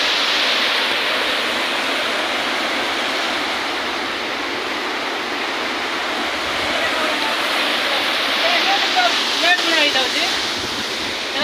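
Rushing water of the Sabari river at a waterfall on the Odisha–Chhattisgarh border in Koraput, a loud steady roar filling the whole clip with slight surges near the end.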